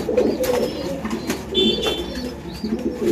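A breeding pair of pigeons, male and female, coo close by in soft, throaty bursts, with a few brighter chirps and a faint rustle between the calls.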